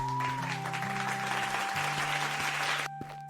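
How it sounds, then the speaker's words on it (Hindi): Hands clap in a steady burst of applause-like claps, fairly close, with a low musical drone underneath, stopping abruptly near the end. "उसी समय पीछे से ताली बजने की आवाज आई।"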